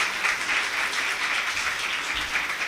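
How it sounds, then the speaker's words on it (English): An audience at a student exchange program event claps in a sustained, even round of applause, moderately loud with no talking over it. "With a loud round of applause,"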